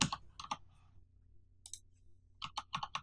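Clicks of the Tab key on a computer keyboard, about a dozen crisp taps in two bursts separated by a quiet gap, close and fairly quiet.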